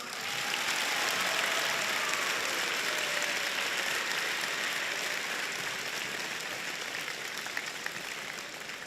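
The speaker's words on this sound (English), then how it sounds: "Let's give a big round of applause." Sustained audience applause after a state candidates debate at Miami University, dense even clapping filling the room for several seconds and tapering slightly toward the end, with no voices over it.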